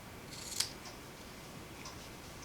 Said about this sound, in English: Let me grab my ribbon scissors.